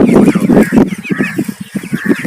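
Broiler chickens crowd a poultry shed, their dense overlapping clucks and calls filling the space at close range in a steady flock din with no speech.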